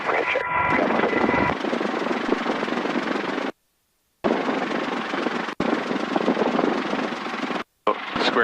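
A loud, steady Hughes 269 helicopter rotor and engine roar fills the whole clip, broken by two brief dropouts into silence.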